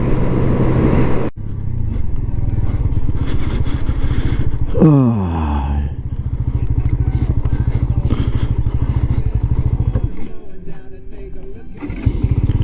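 A Benelli Leoncino 125 motorcycle engine runs steadily and loudly close by. Its pitch drops in a quick sweep partway through, and a voice talks over it.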